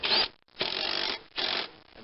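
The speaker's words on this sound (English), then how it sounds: "And we'll just zip this right down with the mini impact" Short bursts of a mini impact wrench tightening a blade on a self-propelled Toro walk-behind mower, three rattling pulses separated by brief pauses, close and fairly loud.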